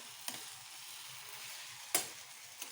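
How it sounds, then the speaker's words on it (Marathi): A semolina and sugar mixture is stirred in a pan for rava modak, giving a faint, steady scraping hiss with a few sharp spoon-on-pan taps. "साखर विरघळेपर्यंत आपल्याला चांगलं मिक्स करायचं"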